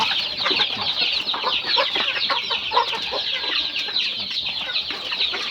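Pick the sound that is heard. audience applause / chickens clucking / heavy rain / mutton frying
chickens clucking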